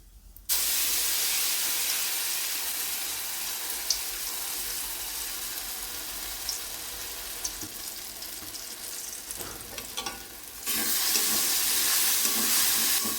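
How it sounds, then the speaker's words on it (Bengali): A paste of soaked chana dal ground with green chilli, salt and turmeric fries in a wok, a loud steady hiss that starts abruptly, continues evenly, and grows louder near the end. "এবারে ডালটাকে ভালো করে ভেজে নিতে হবে"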